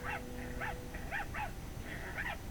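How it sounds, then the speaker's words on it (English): Several dogs bark in short repeated bursts at a moderate distance, yelps and barks spaced irregularly over a low steady background hum. "More than one dog, and coming closer."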